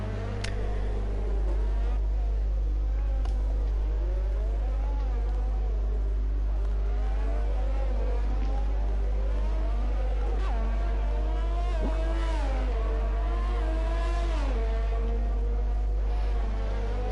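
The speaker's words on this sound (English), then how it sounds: "we've got some cars already on their way to do fastest laps" Whining Formula 1 engines on the Monaco street circuit in an online F1 racing game rise and fall in pitch as several cars lap, with a faint hum underneath.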